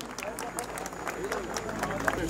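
An audience applauds at the opening of a sports hall and youth centre, with faint, scattered clapping under crowd murmur that stays soft and fairly distant.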